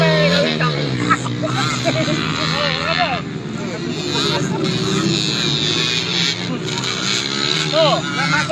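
Racing motorcycles at a village race in Telang Jaya roar past one after another, engines rising and falling in pitch over crowd chatter, with people talking nearby.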